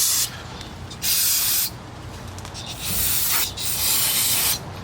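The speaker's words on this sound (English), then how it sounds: "Just using some brake cleaner to clean off everything" Brake cleaner sprayed onto car parts and rubber bushings during a rear sway bar link replacement on a 2011 Volvo XC70, three or four close hissing aerosol bursts of about a second each with brief pauses between.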